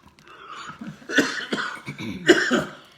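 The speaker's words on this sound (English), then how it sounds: "I'm getting a little bit choked up with an old cough, and so if I start coughing" A person coughs several times in rough bursts, with a couple of louder hacking coughs, close and otherwise quiet.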